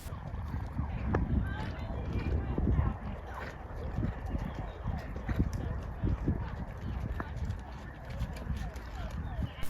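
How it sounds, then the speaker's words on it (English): A horse canters outdoors, its hooves making a quick, continuous drumming clip-clop under a rough, noisy background wash. "And here we had our first canter."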